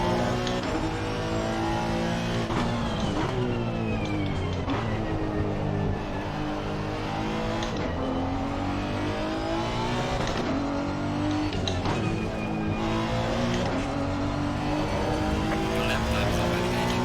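A 2018 Honda NSX race car driven around Spa in the racing game Assetto Corsa Competizione: a loud, continuous engine howl rising and falling through gear changes, with repeated upshifts and downshifts and hard acceleration out of corners, heard alone.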